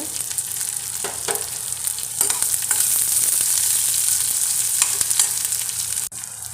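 Finely chopped large onions and green chillies frying in a hot pan, a steady close sizzle with occasional stirring scrapes and no voices.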